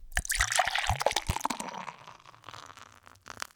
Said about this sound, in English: pouring it into a glass